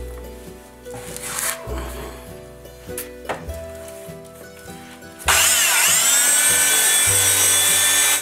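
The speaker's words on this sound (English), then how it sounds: "We can sand our surfaces on these sides. And we're going to do that with a belt sander." A belt sander runs on the flat sides and top of a wooden piece, starting abruptly about five seconds in as a loud, steady high-pitched whine, after quieter handling and tool noises.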